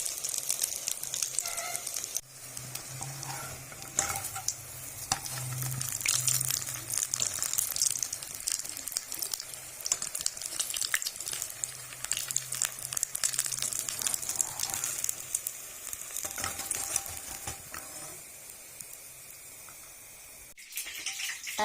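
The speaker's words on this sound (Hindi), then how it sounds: "ऐसे हमने अफगानी कोफ्ते फ्राई कर लिए, बहुत ज़बरदस्त सा कलर आया है।" Afghani kofta kebabs fry in oil in a pan, giving a steady, fairly faint sizzle with crackles and light scraping that continues throughout, with no speech.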